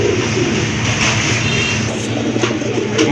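Pair of Mookee pigeons, one in an uncommon Andalusian colour, at a pigeon sale, cooing amid a dense, constant wash of crowd and market noise.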